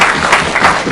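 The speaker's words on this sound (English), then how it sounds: "Give Charlotte a round of applause for writing." A short, loud burst of dense clapping from attendees at a real estate meeting, a round of applause for a colleague named Charlotte, with the room's clapping filling the whole moment.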